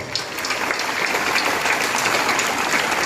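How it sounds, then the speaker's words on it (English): A crowd applauds steadily for the student council at a school investiture ceremony, a dense wash of clapping at even loudness throughout. "Please give them a round of applause."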